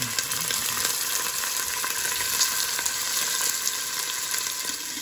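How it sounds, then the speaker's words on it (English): Beef stew meat, one and a half pounds, browning in a pot over a medium flame, giving a steady, close hiss and sizzle that runs on without pause, with no voices. "take the beef pieces, put it in the pot, and brown them"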